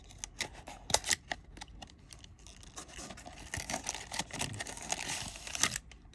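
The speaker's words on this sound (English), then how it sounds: "I'm going to use a scissor to cut them because it's just easier that way" Scissors snipping open individually wrapped Metazoo trading card packs: repeated close blade snips mixed with crinkling foil wrapper, busy and fairly loud, with no talking.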